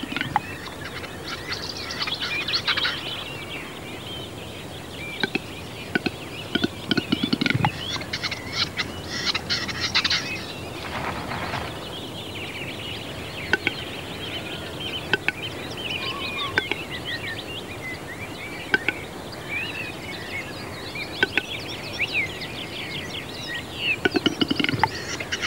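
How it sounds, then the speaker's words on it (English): Odd clicking, popping and gurgling calls of a capercaillie at dawn in a quiet ancient pine forest, with scattered sharp knocks and distant bird chatter. "Late April dawns echo to the extraordinary sounds of the rare capercaillie"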